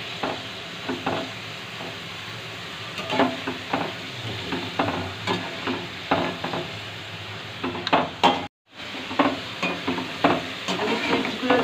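Homemade potato chips fry in hot oil with a loud continuous sizzle close by, punctuated by frequent metallic scrapes and clacks of a utensil stirring the pan, and one abrupt cut near the end.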